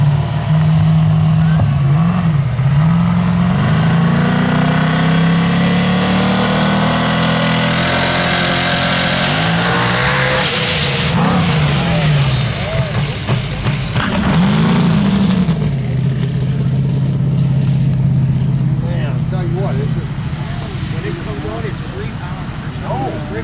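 Open paddle dirt drag race cars make a pass at Cook Station, Missouri: loud engines rev and wind up, rising and falling over about twenty seconds while an announcer talks over the noise.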